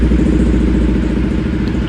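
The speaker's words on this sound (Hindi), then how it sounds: "फाइनली भाई, फाइनली बाइक चालू हो रही है।" A motorcycle engine, running again after a wiring fault was repaired, idles loudly and close with a steady low, lumpy throb and light mechanical clatter, no voices.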